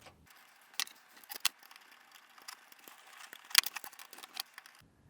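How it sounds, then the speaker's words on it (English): Small metal screws being driven by hand through a PC water-cooling radiator into case fans during a Z270 gaming PC build, giving sparse faint ticks and clicks with a few sharper metallic taps, close up and quiet. "I'll just go ahead and get the radiator started with a few screws"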